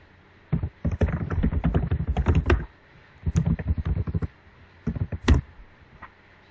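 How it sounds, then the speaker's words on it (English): Typing on a computer keyboard while entering login credentials: close, crisp key clicks in three quick bursts separated by short pauses, with no talk. "We're going to type in the credentials."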